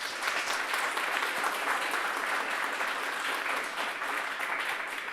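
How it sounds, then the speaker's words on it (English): An audience claps after a technical talk on web APIs, with steady, dense applause filling the room and no talking. "Give Stuart a round of applause."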